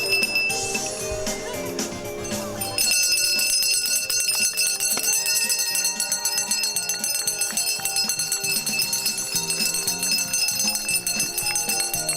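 A school bell rings continuously on the first day of school, with bright, sustained clanging tones, loud and close, over a crowd's faint murmur.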